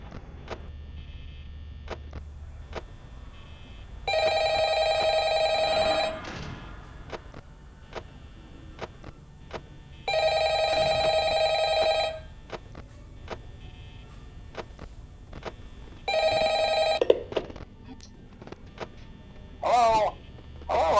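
A desk telephone rings in the Five Nights at Freddy's game: three long, loud electronic ring bursts spaced several seconds apart, with faint clicks and ticks sounding in the quieter gaps.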